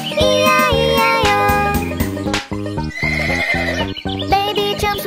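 A voice imitates a horse's neighs as part of a children's farm nursery rhyme, with loud, whinnying tones over a bouncy musical backing.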